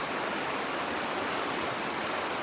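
A creek flowing along the bottom of the Grand Canyon near Phantom Ranch makes a steady, dense rush of water, constant and unbroken throughout with no voices.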